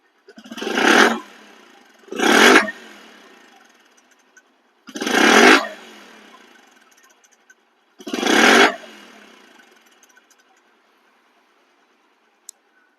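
A 2024/25 Bajaj Platina 100cc motorcycle in showroom condition, its engine revved in four short, loud bursts spaced a couple of seconds apart, each dropping back to a quiet idle in between.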